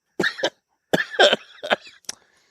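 A man coughs after inhaling cigar smoke: a pair of sharp coughs, a brief pause, then a longer cluster of harsh, close coughs and throat clearing tapering into a final small hack.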